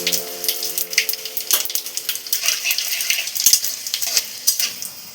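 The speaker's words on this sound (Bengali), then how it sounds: "ভাজা তেলে একটা তেজপাতা, অল্প 5 ফোড়ন দিয়ে দেব।" Bay leaf and panch phoron spices crackle and sizzle in hot oil left from frying bori, a steady close frying hiss with scattered sharp pops and a few utensil clinks, no voices.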